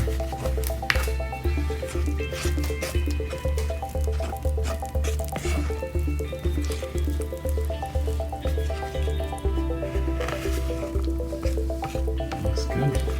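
Thick, egg-free vegan cake batter is poured and scraped from a mixing bowl into a cake pan, giving soft, wet squishing sounds that repeat against a steady, rhythmic background.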